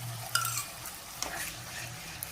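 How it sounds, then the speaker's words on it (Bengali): Spice paste sautéing in a pan for a fusion gandharaj lime and fish dish, a soft steady sizzle with occasional stirring scrapes and clinks, fairly quiet and close. "মশলাটা কষানো হোক"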